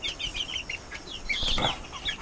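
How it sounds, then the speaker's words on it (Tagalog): Chickens nearby, with bursts of wing flapping and soft clucks and chirps scattered over a low outdoor background. "Manok."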